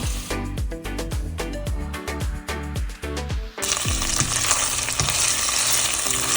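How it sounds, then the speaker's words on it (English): Onions frying with ginger garlic paste in a pan, steady sizzling punctuated by repeated scraping stirs, then a louder, bright continuous sizzle as more goes in. "Onions have been frying for 3 to 4 minutes."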